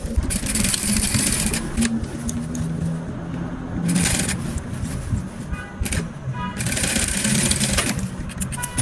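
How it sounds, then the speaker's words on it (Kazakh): A sewing machine stitches dress fabric in several loud, rapid, whirring bursts separated by short pauses, heard close up. "Осылай мына лапку тігесіз, лапкамен бірдей тігесіз."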